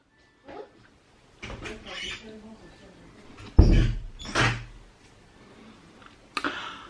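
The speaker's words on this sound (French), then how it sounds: "Ferme la porte." A door shuts at home with a solid thud midway, surrounded by shuffling, small knocks and brief indistinct voices.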